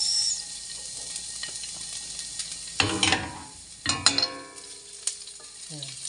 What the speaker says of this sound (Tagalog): since umusok na, pagsabay na natin yung bawang sa sibuyas